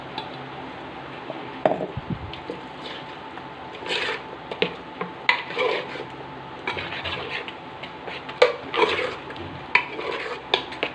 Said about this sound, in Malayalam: മിക്സിയുടെ ജാറൊന്ന് കഴുകി കുറച്ച് വെള്ളവും കൂടി ഒന്ന് ഒഴിച്ച്